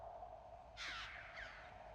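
Raven calls, likely a common raven, sound outdoors: two harsh croaking caws, one near the start and a second shorter one a moment later, over steady low background noise.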